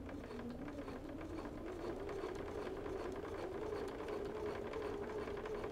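Home sewing machine quilting straight lines with a walking foot, one continuous close motor whir with a steady fast stitch rhythm, no pauses and no voices.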